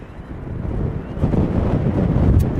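Wind buffets a microphone outdoors at East Midlands Airport, a steady low rumble that swells and gusts throughout, loud and close with no voices.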